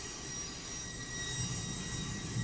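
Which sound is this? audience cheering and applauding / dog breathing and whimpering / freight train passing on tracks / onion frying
freight train passing on tracks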